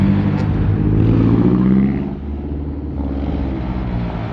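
Toyota Supra engine at a busy night car meet, a loud close rumbling rev that builds, drops off, then settles into a steady lower drone.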